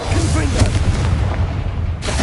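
A Confringo fire spell blasts in Hogwarts Legacy, a dense, continuous roar of booming, explosive rumble with a sharp burst near the end, loud and close with no talk.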